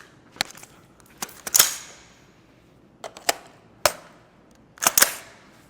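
Pistol shots are fired at a close-quarters training target in uneven pairs and singles, each a sharp loud crack with a brief ringing tail, and quiet gaps between them.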